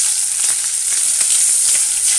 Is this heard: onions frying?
yes